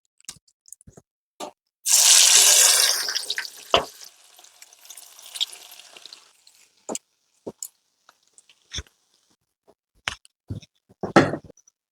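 Chicken pieces dropped into hot oil for chicken fry, giving a loud burst of sizzling that fades over a few seconds, followed by scattered clicks and taps of utensils in a quiet kitchen.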